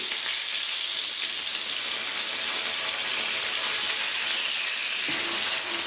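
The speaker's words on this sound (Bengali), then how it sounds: "একটু হালকা করে ভেজে নেওয়া হবে" Pointed gourd (potol) slices frying in hot oil, a loud, continuous bright sizzle and crackle that holds steady throughout, close up with no voices.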